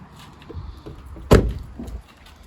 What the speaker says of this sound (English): If I shut the doors